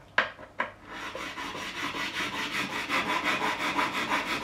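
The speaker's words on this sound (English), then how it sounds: "I'm going to use these two files, my two trusty files" Guitar frets on an Ibanez Roadstar II RG200 are worked with a metal file: two sharp scrapes open, then a run of quick, rhythmic rasping strokes, close and alone.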